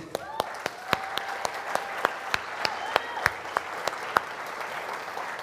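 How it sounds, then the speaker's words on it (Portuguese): An audience at a church event applauds a guest, an art collector being welcomed on stage: steady scattered clapping with distinct sharp individual claps standing out, while a voice speaks over it. "Uma salva de palmas para o Davi."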